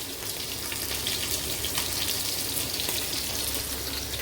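Freshly washed cut vegetables, among them drumsticks, sizzle and crackle in a little hot oil for a Bengali fish curry, a dense, wet frying hiss with watery spatter, close and steady throughout.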